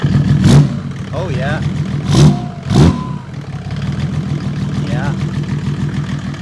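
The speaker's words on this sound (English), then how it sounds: "I wonder what it sounds like at the end of the exhaust pipe." A diesel engine runs steadily, heard close at the end of the exhaust pipe, with a couple of brief revving swells, while a person briefly speaks over it.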